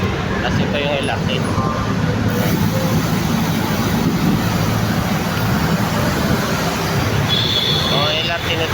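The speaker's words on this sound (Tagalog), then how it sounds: "Tapos ito yung LRT." A steady roar of an LRT light rail train rolling past nearby in Valenzuela, Philippines, with constant rumble and faint high squeals layered over street noise.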